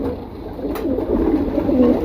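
Pigeons kept by a hobby breeder give a short, close, soft cooing call that rises and wavers over steady low background noise, with no voices.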